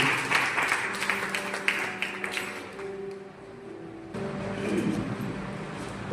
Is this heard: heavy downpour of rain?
no